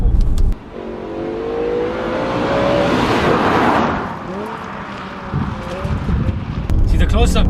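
A BMW M5 E60 with a naturally aspirated engine accelerates, its loud rising engine note swelling through a gear and settling, with a person speaking briefly over the cabin noise.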